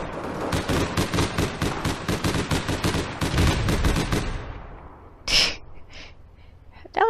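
Rapid bursts of automatic gunfire from the online shooter game APB Reloaded, loud and close, about fifteen sharp shots in a steady rhythm, then a fading tail and a single louder blast near the end.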